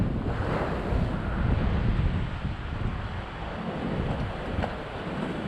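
Big ocean waves surge and crash continuously around a small fishing boat, a loud, broad roar mixed with heavy wind buffeting the microphone, with no break throughout.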